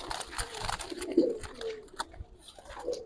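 Soft, close cooing from Giribaz pigeons, several low rolling coos scattered through the moment amid light rustling, with no speech over them.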